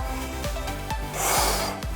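A forceful exhale during an oblique core workout rises as a brief breathy rush over steady background music, in a short two-second moment without speech.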